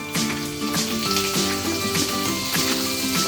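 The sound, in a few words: chopped ginger and garlic sizzling in pan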